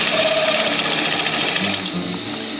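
A sewing machine stitches a canvas rollup bag, a fast steady mechanical chatter up close and loud, easing slightly toward the end, with no voices.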